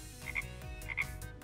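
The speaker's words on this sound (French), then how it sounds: "Il y a tant de grenouilles!" Frogs croak at a playground, two clear bursts of raspy croaking about half a second apart, close and moderately loud with no other sounds.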